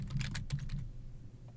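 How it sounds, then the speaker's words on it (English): Rapid typing on a computer keyboard, a quick run of close keystrokes followed by a few scattered taps against a low steady hum. "I'm going to type in the word debate and start from there."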